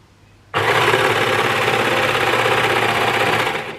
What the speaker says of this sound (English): we just want to neaten that seam that we've just sewn on our overlocker